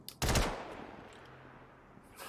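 A Gallant assault rifle by Klaus & Werner fires in Star Citizen, a single sharp, loud report with a short burst that rings out and decays into a faint tail.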